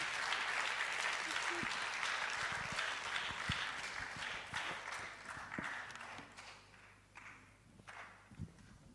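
A young audience at a public lecture claps loudly for an honoured professor, a thick roar of applause that gradually thins and fades toward the end, with scattered individual claps and some voices underneath.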